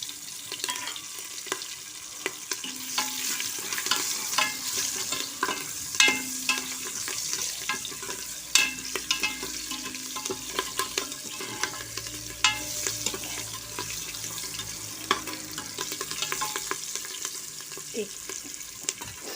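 Bay leaf, curry leaves and slit green chillies fry in hot oil, giving a steady crackling sizzle with scattered sharp pops and the occasional scrape of a spoon stirring the pan, all close up and continuous.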